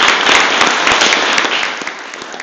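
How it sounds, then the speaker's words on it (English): Dense, loud applause from an audience for speakers at a Flanagan State Bank farm event in Gridley, Illinois, with crisp overlapping claps that thin out toward the end. "Let's give another round of applause to our speakers."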